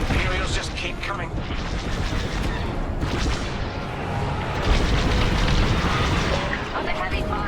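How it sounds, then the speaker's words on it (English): Dense, continuous rumbling barrage of laser blasts and explosions in a Star Wars Squadrons space battle, loud and unbroken, with radio voices from the game speaking over it. "Under heavy fire."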